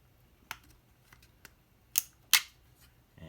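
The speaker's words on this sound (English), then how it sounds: "get in here with some side snips and snip off this little plastic nub" Side snips cut a small plastic nub off a Spirit Halloween proton pack: a few faint clicks, then two sharp, close snaps of the blades closing, with quiet pauses between.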